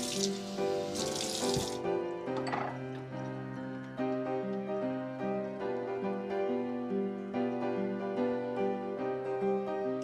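Water runs steadily from a faucet into a sink, a continuous splashing rush that carries on throughout with no talking.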